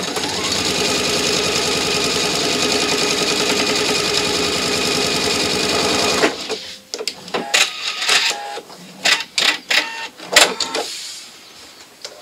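A sewing machine stitches a counter pleat in fabric, a loud steady mechanical whir for about six seconds, then stops and gives way to scattered handling clicks and rustles.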